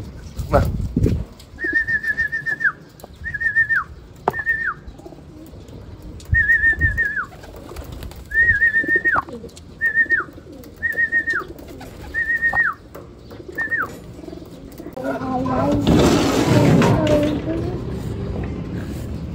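Repeated soft coos of racing pigeons arriving from a 116 km training flight in Unisan, Quezon, in short rounded phrases, fairly close, over a murmur of background voices and handling noise, ending in a rustling burst.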